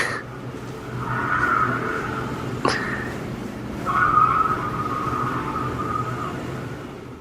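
Porsche sports car in a film skidding in two drawn-out tire squeals separated by a sharp impact sound, loud and close over a steady engine rumble.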